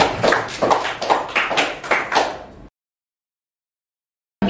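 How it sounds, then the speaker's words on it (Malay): Classroom pupils clapping for their classmates: a short burst of steady, rhythmic group clapping lasting a couple of seconds, then silence. "bagi tepukan untuk kawan-kawan sekalian"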